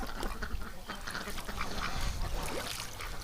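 Ducks quack repeatedly at close range in a winter yard near water, overlapping calls and honks over a steady rustling background.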